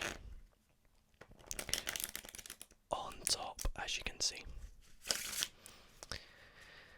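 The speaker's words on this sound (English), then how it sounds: "I just like to perform a riffle shuffle" Playing cards are riffle-shuffled close up in a whispered card-magic tutorial, with crisp bursts of rapid flutter and snapping between soft whispered speech.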